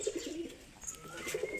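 Pet birds perched near their nest with eggs give soft, repeated cooing calls at close range, a few low murmuring notes in short bursts over light background noise.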